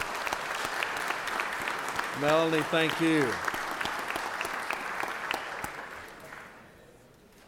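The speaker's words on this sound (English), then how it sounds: "Let's give them a round of applause for all the great work that they do." Applause fills the Georgia Senate chamber, a steady wash of many hands clapping that carries on throughout and fades near the end, with a brief spoken thank-you over it midway.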